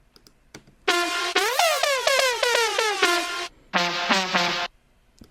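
Bright buzzy synth note with its pitch sweeping upward from an octave below to the original pitch, played as a stuttering rhythmic phrase with repeated gliding attacks, then a short lower sustained burst; loud and dry with no talk.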